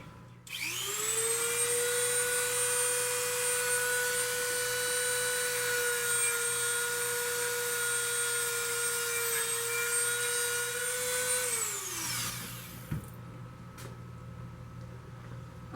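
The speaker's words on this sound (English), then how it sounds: "What I do is I take a Dremel with a sandpaper edge." A Dremel rotary tool with a sandpaper edge sands a mop bucket wheel, spinning up to a steady high-pitched whine for about eleven seconds before winding down, followed by a faint click and quiet room tone.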